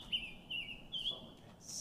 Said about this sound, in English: a special bird that we have pretty abundantly here in Northwest Arkansas called the summer tanager